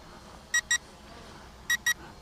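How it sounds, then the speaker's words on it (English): An M66 WiFi drone sounds low-battery beeps as two pairs of short, sharp electronic tones, evenly spaced and clearly audible, with only a faint hum between them. "I think that beeping is telling me it's had enough."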